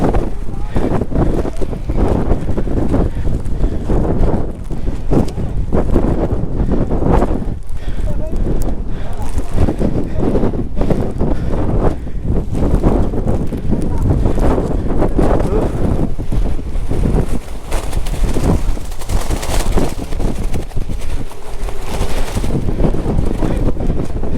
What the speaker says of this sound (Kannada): ಆ ರೇಂಜಿಗೆ ತಿಳಿತೈತೆ ಗಾಳಿ